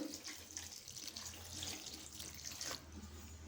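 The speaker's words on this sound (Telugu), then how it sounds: "దీంట్లోకి సరిపోయే వాటర్ వేసుకోవాలి" Water runs steadily into a cooking pot of gongura dal, a continuous splashing stream at moderate volume with no talking.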